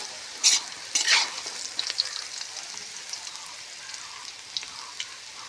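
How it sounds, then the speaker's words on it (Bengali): Potato and pointed gourd frying and being stirred in a pan, close and steady sizzling with a couple of louder scraping stirs near the start that settle into a continuous crackle, no voices. "আলু পটল ভাজি বসাইছি"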